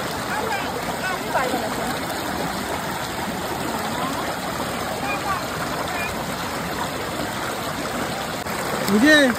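Continuous flowing river water in Tabakoshi, North Bengal, rushes and gurgles steadily throughout, with a brief voice near the end.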